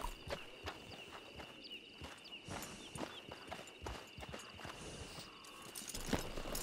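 A horse walks in Red Dead Redemption 2, its hooves clip-clopping in an irregular, moderately paced rhythm. The hoofbeats are fairly quiet against a steady background hum.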